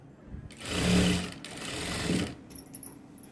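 Sewing machine stitching a blouse in two steady runs of rapid, continuous motor whir and needle chatter, close and loud, separated by a brief pause, then fading to quiet handling noise.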